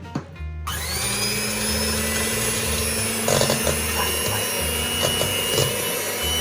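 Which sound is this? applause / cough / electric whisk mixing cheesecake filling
electric whisk mixing cheesecake filling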